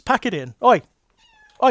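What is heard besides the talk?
cats fighting and yowling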